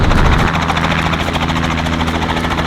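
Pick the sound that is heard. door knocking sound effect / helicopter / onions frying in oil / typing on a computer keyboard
helicopter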